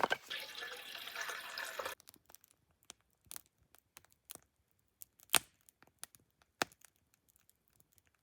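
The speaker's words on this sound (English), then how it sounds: "The water's finally boiling" A pot of water comes to a boil at a snowy bushcraft campsite: a rushing, bubbling hiss for about two seconds, then quiet broken by scattered soft pops and ticks nearby.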